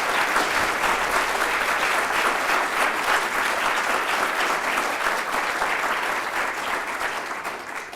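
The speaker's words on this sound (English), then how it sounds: "let's give him a round of applause" An audience at a medical school address claps in sustained, dense applause, holding steady for several seconds before tapering slightly toward the end.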